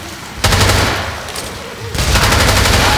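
Loud, sustained automatic gunfire in Left 4 Dead 2 comes in two long rapid bursts, close and dense, with a short pause between them.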